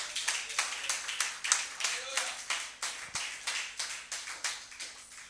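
A church congregation claps for Jesus in a steady rhythmic beat, many hands together at an even pulse across the whole stretch, fairly close and without a break.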